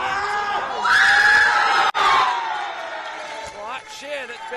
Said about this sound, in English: cheer that's been let out by the Japanese supporters and staff